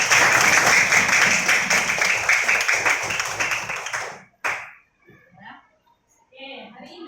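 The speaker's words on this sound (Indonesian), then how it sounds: "kita kasih tepuk tangan untuk semuanya" A school classroom of children claps hands together in rhythmic bursts for about four seconds, then stops abruptly, leaving a short sharp clap and some faint chatter and movement afterward.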